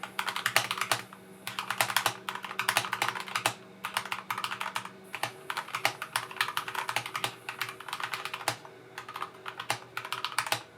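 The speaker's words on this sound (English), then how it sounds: "the typing and response of the keys is extremely smooth," Continuous typing on a Motospeed CK69 mechanical keyboard fitted with Gateron red linear switches, a brisk, steady run of soft, close keystrokes with occasional louder clacks and no talk.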